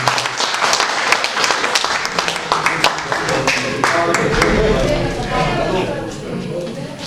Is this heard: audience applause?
yes